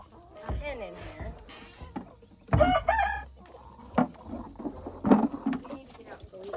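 Chicken sounds in a backyard coop: a hen clucking with crowing-like calls mixed in, several loud bursts near and clear, with a person talking intermittently between them.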